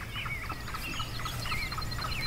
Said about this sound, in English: I hear a turkey. I hear a hen, I think